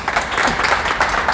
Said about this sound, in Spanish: Un fuerte aplauso a Luna Miguel y a Ernesto Castro por ser tan generosos con nosotros de compartir todo este paseo del Ulises